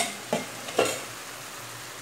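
Stirring a pan of mixed vegetables with coconut milk, two short scraping strokes of a utensil heard close up over a faint steady sizzle, with no talking.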